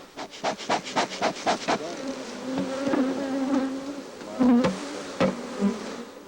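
Honeybees buzz around a hive frame as a beekeeper handles a bar from the box for royal jelly production, opening with a rapid series of knocks, then a close, wavering hum with occasional taps.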